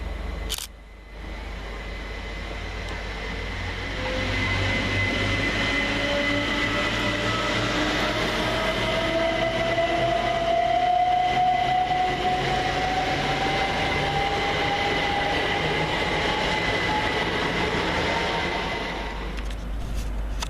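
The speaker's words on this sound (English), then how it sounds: "Next out, 377201 and 377214, working the 11:52 Southern Railway service from Milton Keynes Central to Clapham Junction" Class 377 Southern Railway electric units 377201 and 377214 run through Watford Junction on a Milton Keynes to Clapham Junction service, a steady loud rumble with a slowly rising whine that builds, holds for most of the pass, then eases away.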